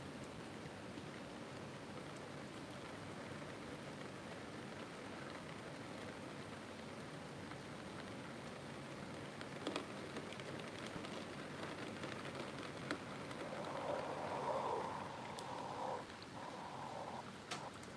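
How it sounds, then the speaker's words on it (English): Steady patter of rain on surfaces, a soft continuous hiss with scattered drops, faint and even throughout with no voices. "It's starting to rain now."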